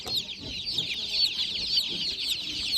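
A crowd of pedigree chickens at a Kolomyia livestock market keeps up dense, continuous high clucking and chirping, with a soft murmur of the market underneath.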